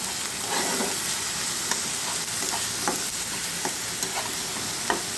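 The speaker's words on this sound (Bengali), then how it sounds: "মশলাটা একটু সাঁতলানো হয়ে গেলেই" Spices sauté in a pan for chicken gravy, with a constant close sizzle of frying and a few sharp scraping clicks as the mixture is stirred.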